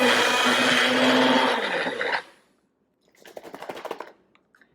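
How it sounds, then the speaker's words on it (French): A blender crushing ingredients for homemade popsicles: a loud, steady whirring grind for about two seconds that stops abruptly, followed by softer rattling and clattering. "Juste un tout petit peu pour aider le mélangeur à tout écraser."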